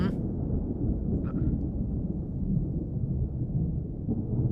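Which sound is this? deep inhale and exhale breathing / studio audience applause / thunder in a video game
thunder in a video game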